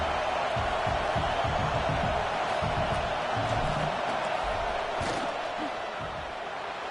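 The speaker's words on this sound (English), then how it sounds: "This crowd trying to do its part to get inside the kicker's head." Football stadium crowd roaring before a field goal kick at an NCAA game, a dense, loud, sustained wash of distant voices and noise that holds steady throughout.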